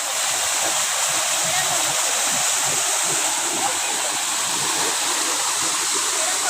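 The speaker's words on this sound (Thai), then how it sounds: "นี่ตรงนี้เป็นเป็นน้ำตกลงมานะครับ" Loud, steady rush of a waterfall at a hillside temple in Thailand, broadband and continuous throughout, close by, with faint voices beneath the roar.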